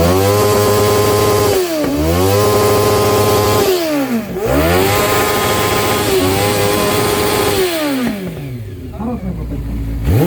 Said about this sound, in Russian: Мотоцикл, запускайся.